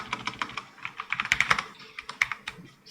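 Rapid, irregular keystrokes on a computer keyboard entering Linux server commands on CentOS 7 or Rocky 9, close and fairly crisp, with a few sharper louder key hits, with no voice.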